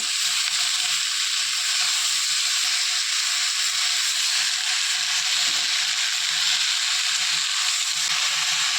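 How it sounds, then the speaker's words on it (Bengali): Malabar spinach (pui shak) stir-frying in a pan gives a constant, bright hissing sizzle with faint low stirring bumps underneath, steady throughout. "পুঁই শাকটা আমি দিয়ে দিলাম এবার এটাকে আমি ভালোভাবে কিছুক্ষণ নেড়ে নেব"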